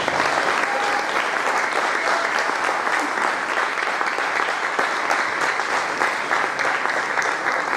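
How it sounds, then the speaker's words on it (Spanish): Sustained congregation applause fills a youth church congress service, a dense steady wash of many hands clapping at close range, with a few scattered voices underneath. "Dale un aplauso al Señor en esta noche."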